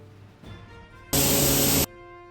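A paint spray gun lays a silver coat on an arcade cabinet in one loud, close burst of hissing spray lasting under a second, framed by a quiet background hum before and after.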